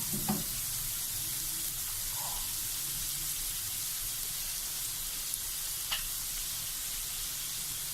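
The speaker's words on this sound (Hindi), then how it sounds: "प्याज को भी हल्का सा सौते करना है" Onion sautés lightly in a pan with chillies and cabbage for chicken chow mein, giving a constant, even frying hiss close by with a couple of faint clinks and no talking.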